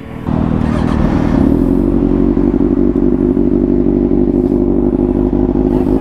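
Kawasaki motorcycle with its dB killer removed, engine running loud and steady close by, a heavy throbbing exhaust rumble held for several seconds with no talk over it.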